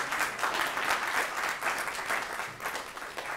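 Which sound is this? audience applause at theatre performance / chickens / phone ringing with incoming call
audience applause at theatre performance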